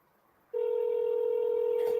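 A phone line picks up and a steady, loud continuous telephone tone starts abruptly after a half-second of near silence, holding unchanged to the end with a brief blip near the close.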